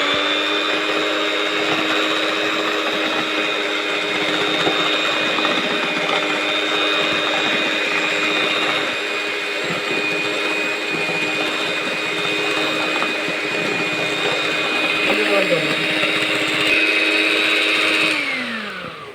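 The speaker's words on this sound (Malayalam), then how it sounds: "നമുക്ക് നമ്മുടെ മീറ്ററും കൊണ്ടൊന്ന് ബീറ്റ് ചെയ്തെടുക്കാം" An electric mixer beating sugar, a loud steady motor whine running continuously and close, with a slight pitch drop near the end before it stops.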